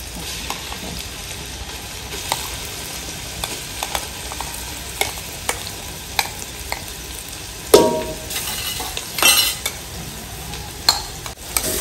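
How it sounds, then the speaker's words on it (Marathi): Masala roasts in hot oil on a wood-fired chulha for a country chicken curry, a steady crackling sizzle with scattered spatula taps and a few louder scrapes near the end; no talking. "तेलामध्ये भाजून घ्यायचा आहे"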